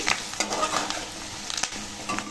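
Curry leaves and asafoetida frying until crisp in hot oil for a tomato sesame chutney, a brisk crackling sizzle with quick stirring strokes and a light clink of a spoon against the pan, close and uninterrupted by speech.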